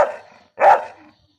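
A dog barks twice on command, a sharp bark at the start and a louder, fuller one just after the middle, each standing alone with a short quiet gap between them and no talk over them.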